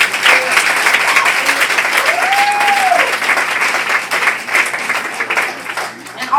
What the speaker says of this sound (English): So give my son a round of applause.